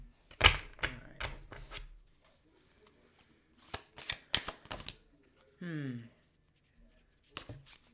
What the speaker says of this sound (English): let's get one more shuffle, please, Spirit.